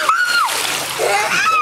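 A child jumps into backyard water, making a sharp splash as children's voices call out over and around it.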